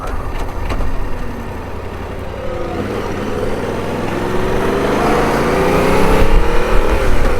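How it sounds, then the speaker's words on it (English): A heavy engine rumbles steadily, growing louder as a large tractor approaches and passes nearby, its drone rising and then holding. "Big tractor coming."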